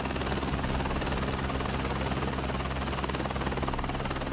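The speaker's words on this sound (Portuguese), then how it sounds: "Um helicóptero será cedido pelo governo do estado exclusivamente para o SAMU." Rotor buzz from an Esquilo helicopter used by the SAMU emergency service, a steady dense drone holding at an even level throughout with no voices.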